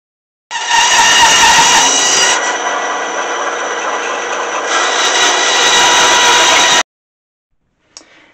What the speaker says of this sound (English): so now we'll head over to the bandsaw